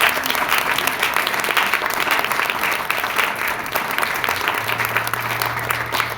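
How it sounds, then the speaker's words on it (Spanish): A church congregation claps together in sustained, dense applause that stays steady and fairly loud throughout, with a faint low hum joining near the end. "Fuerte las palmas para nuestro Padre Celestial."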